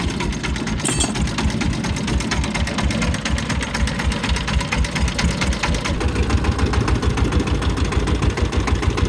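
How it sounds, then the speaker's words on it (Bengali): A boat engine drives a boat along the Jamuna River with a rapid, even mechanical chugging. It is loud, close and continuous for the whole stretch, with no voices. "নৌকা সামনের দিকে এগিয়ে চলতে লাগলো"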